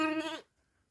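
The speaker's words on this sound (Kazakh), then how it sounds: "Мынау алдында 5-ші қозығым, қоңыр қозы." A brown lamb about ten to fifteen days old gives a single short, close bleat lasting under half a second, followed by quiet.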